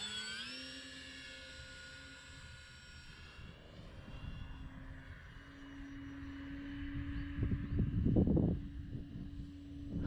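An electric RC model airplane with a heavy battery pack whines overhead, and its thin motor tone shifts in pitch as it passes. Wind buffeting swells near the end.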